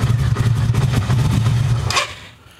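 A motorcycle engine idles at low revs during an ignition lead replacement, a steady close throbbing hum that runs for about two seconds before fading away.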